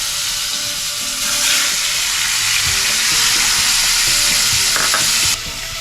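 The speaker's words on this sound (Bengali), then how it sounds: "বাকি মাছগুলো ভেজে নেব।" Pieces of katla fish fry in hot oil, giving a loud, continuous sizzle and hiss close by, with a few faint clinks of a utensil beneath.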